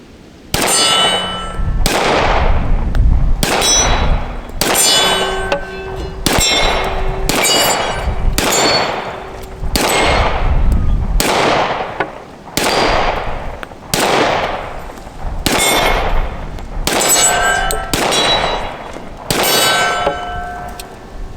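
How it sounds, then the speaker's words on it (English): A full-size Smith & Wesson M&P pistol fires about a dozen loud, evenly spaced shots outdoors. Each shot is followed by a ringing clang as the bullet hits a steel target. "let's just try to shoot a few here and see if I can hit anything with the full size"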